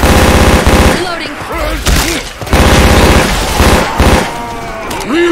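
Rapid automatic gunfire in Left 4 Dead 2 on the Hate Mountains map, with loud, sustained bursts broken by short pauses, mixed with game sounds and voices calling out.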